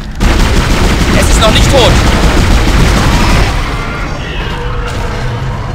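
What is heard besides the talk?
gunfire in the Dead Space video game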